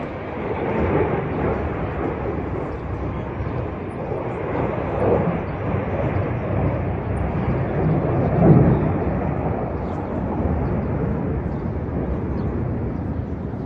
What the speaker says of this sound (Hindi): अल अक्सा के आसपास इजराइल के जहाज भी उड़ने लगे।